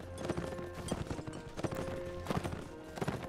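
Horse hooves clip-clop in steady repeated strikes as a mount trots along in the video game Mount & Blade: Warband, fairly close, with faint game ambience around them.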